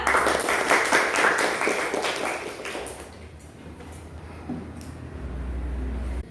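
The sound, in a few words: classroom applause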